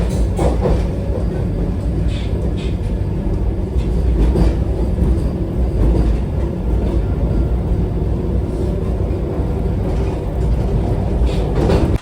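A Vande Bharat Express train runs from Secunderabad to Tirupati, heard from inside as a steady, loud rolling rumble with faint rhythmic clatter throughout.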